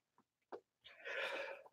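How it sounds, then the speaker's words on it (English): A single sneeze bursts out close and loud after a couple of brief sharp inhaled catches, trailing off into a breathy tail, in a quiet indoor setting during watercolor painting. "Oh, I'm going to sneeze."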